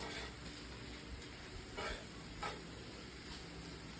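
Bacon and cabbage fry in a pan, a steady soft sizzle running throughout with a few brief stirring scrapes, quiet and close.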